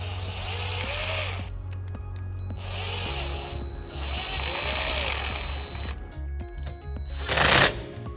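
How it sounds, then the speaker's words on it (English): Ratcheting a 5/16 socket to tighten a clamp during a trailer wiring harness install on a 2019 Nissan Titan, with bursts of rapid clicking that stop and restart, close by, ending in a brief louder rustle. "we're going to take a 5/16 socket and we're going to tighten up this clamp"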